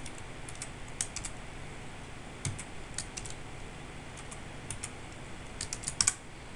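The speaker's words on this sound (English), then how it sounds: "And now let's enter in the correct username and password." Keys click on a computer keyboard as a username and password are typed at a login prompt, a sparse run of light, quick taps in small bursts with short pauses between.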